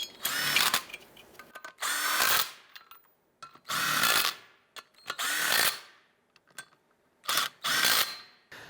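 Power tool snugging down brake rotor bolts on a 2003-2012 Chevrolet Colorado front hub, firing in short loud bursts of about a second each, six or so in a row with brief gaps between.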